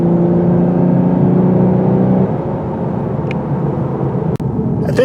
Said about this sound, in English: I do have this in the Sport Plus mode because I want to hear the exhaust as loud as it is